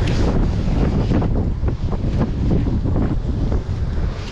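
Strong wind roars steadily into the microphone, a loud, dense rushing noise with rolling gusts and no pauses, heard alone without any talking.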